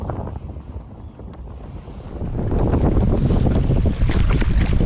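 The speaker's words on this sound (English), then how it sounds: "Wind's blowing, but at least it's a tailwind." Strong wind blowing over Crooked Lake in the Boundary Waters during a canoe trip, a loud, steady roar of buffeting gusts and rushing air that swells louder partway through, with no talk.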